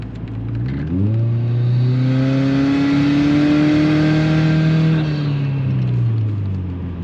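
Modified 2005 Subaru Legacy GT wagon engine revs up hard with rising harmonic pitch, holds a steady high drone, then eases off, loud and close for about seven seconds with no talking.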